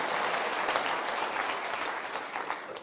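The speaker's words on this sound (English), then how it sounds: "we should all applaud the gentleman" An audience at a talk applauding a gentleman, a sustained wash of clapping that stays fairly loud and tapers slightly toward the end.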